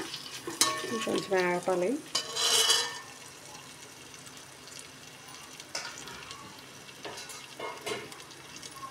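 Potato pieces and vegetables fry for a veg biryani, a steady sizzle with clinks and stirring scrapes, louder bursts early then settling under brief talk.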